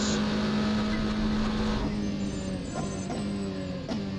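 A Scuderia Glickenhaus SCG 007 race car engine drones steadily in the Assetto Corsa sim, a continuous close tonal hum that shifts pitch partway through as the car changes speed, with no speech.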